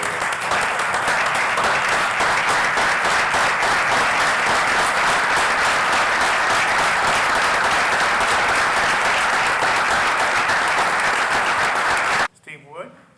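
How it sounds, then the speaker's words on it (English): Loud, sustained applause from an audience at a Noblesville Board of Public Works meeting, honoring a man, steady dense clapping for about twelve seconds before cutting off abruptly. "give this man another round of applause"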